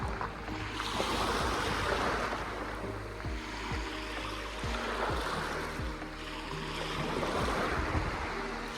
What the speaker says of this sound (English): I don't get tired ever to come and listen to the waves and to feel the wind